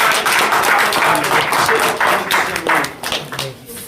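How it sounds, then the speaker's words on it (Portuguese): A church congregation breaks into a loud, dense round of applause during a worship service, sustained throughout with voices mixed into the clapping. "Dê uma salva de palmas para o Senhor."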